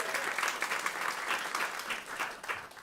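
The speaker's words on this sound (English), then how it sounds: "Give him another round of applause, please." An audience at a farmland conference claps in a sustained round of applause, fairly soft and a little distant, even in texture throughout with no talk over it.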